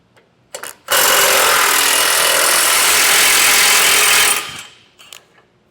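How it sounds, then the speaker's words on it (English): An air impact tool fitted with a 15 mm socket removes bolts from the bumper of a 2019 Ford F-150. A short burst is followed by a steady, loud, close whir of about three and a half seconds, then brief trailing spurts. "Then we're going to take a 15 millimeter socket and take these two bolts out of here."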